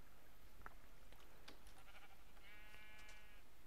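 A pink Minecraft sheep gives a single short, thin bleat near the end, preceded by a few soft game clicks over a low, quiet background.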